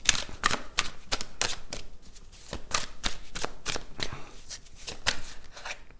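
Tarot cards being shuffled up close, a rapid series of crisp papery riffles and snaps in irregular bursts, fairly loud and steady throughout with no talking.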